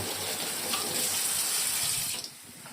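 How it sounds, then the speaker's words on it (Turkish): Steady rush of running tap water into a kitchen sink while hands are rinsed, broadband and close, cutting off abruptly near the end. "Şu elimi bir yıkayayım."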